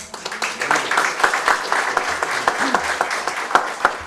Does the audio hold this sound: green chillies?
no